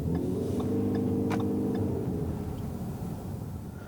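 A 2013 Ford C-Max Hybrid accelerating, a steady mid-pitched engine drone rising slightly in tone over road rumble, heard from inside the cabin, fairly loud and continuous without talking.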